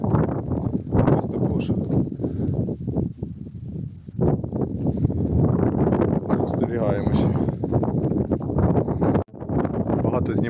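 Strong wind buffets the microphone in loud, continuous low rumbling gusts, with a brief dropout near the end; no other sounds stand out.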